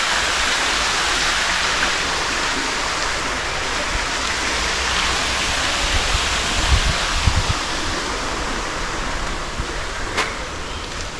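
Water fountains running at a Baden-Baden hotel, a loud, dense, steady rush of splashing water throughout, with a few faint knocks and bumps near the middle and end.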